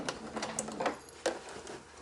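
A sewing machine backstitches along a dress neckline, its needle thumping in a fast, even rhythm with a couple of louder clicks, close and moderately loud without any talking.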